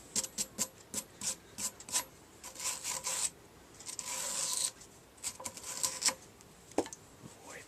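Someone wipes out the ring groove on a drive shaft, making quick, quiet rubbing and scraping strokes in an uneven rhythm, close by, with short bursts of friction noise.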